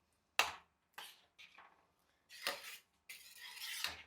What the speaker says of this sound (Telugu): ఇది మంచిగా కలుపుకుందాం.